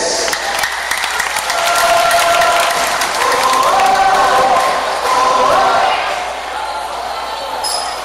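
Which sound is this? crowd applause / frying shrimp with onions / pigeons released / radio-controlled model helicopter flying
crowd applause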